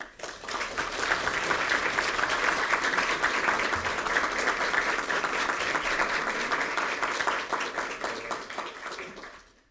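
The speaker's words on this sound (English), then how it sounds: "Please welcome His Excellency President Carlos Alavarado to the podium with a big hand of applause" Sustained crowd applause, dense and steady for nearly ten seconds before tapering off at the end.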